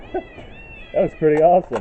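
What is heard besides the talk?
peacocks calling in the background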